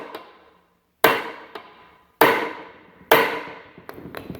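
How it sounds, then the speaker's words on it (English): Three sharp hammer taps on a Toyota 5S engine block ring out one after another at roughly one-second intervals, each a crisp knock with a short decaying ring, then lighter ticks. "And then I got my hammer here"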